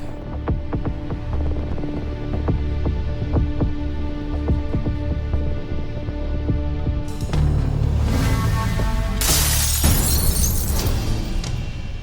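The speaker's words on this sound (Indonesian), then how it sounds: "Siapa yang mecahin kaca jendela rumahku ya?" A house's window glass shatters in a sudden crash of bright, broadband noise and debris after a long low throbbing, pulsing hum.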